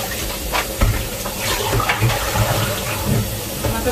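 Water runs steadily from a tap, a constant rushing hiss with a few clinks and knocks mixed in.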